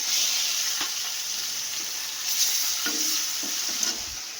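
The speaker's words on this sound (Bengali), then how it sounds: "আগে মাছগুলো ভেজে নেব" Steady oil sizzling and hissing from frying fish, with a few soft utensil scrapes and taps over the constant crackle.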